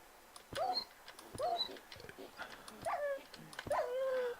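A dog in a Minecraft modpack game gives several short yips and whimpers at close range, spaced out over a few seconds amid faint game clicks.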